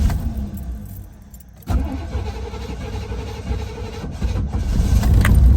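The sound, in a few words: car engine starting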